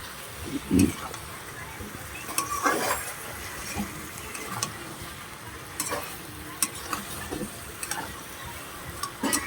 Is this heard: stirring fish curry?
yes